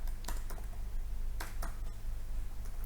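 Typing on a computer keyboard, a few sparse, close key clatters in short bursts over a steady low hum, with no talking.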